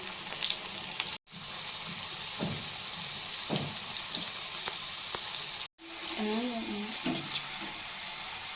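Chopped ivy gourd (dondakaya) fries in a pan with a steady close sizzle, broken by occasional clanks of a spoon stirring and two brief dropouts, while a voice speaks faintly in the background.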